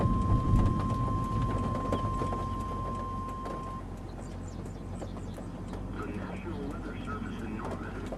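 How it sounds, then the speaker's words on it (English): Rain and deep rumbling thunder during a tornado chase form a steady, dense wash of storm noise, with people talking over it throughout. "See, the rain is behind us."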